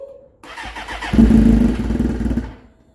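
A motorcycle is cold-started in snowy weather: a brief crank gives way to the engine catching and roaring loudly up close, then settling and fading over a few seconds.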